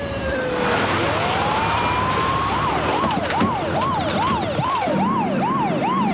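An ambulance siren wails down the road in rising and falling cycles, starting as one long upward sweep and then settling into a steady rhythmic wail, loud and continuous over engine and road noise.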